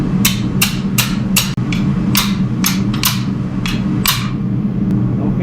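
A chisel is hammered into the seam of a steel canister for feather Damascus, giving about a dozen sharp metallic strikes at an irregular pace. They sit over a steady low hum, like a fan or forge.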